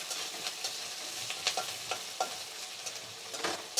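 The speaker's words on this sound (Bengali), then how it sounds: "পেঁয়াজগুলো একটু হালকা ভাজা ভাজা হয়ে গেলেই" Onions fry lightly in a pan with a steady, close sizzle, broken by frequent soft scrapes and clicks of stirring.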